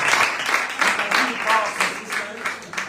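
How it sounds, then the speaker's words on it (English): An audience at an awards presentation applauds a second-place winner who comes forward, giving loud, dense clapping that rises and falls in waves throughout. "Big round of applause. Congratulations."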